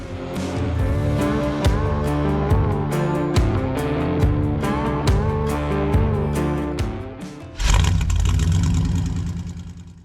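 A stretched mini bike's small engine revs hard and steadily up close, rising and falling in pitch with clattery bursts, then surges loudly near the end.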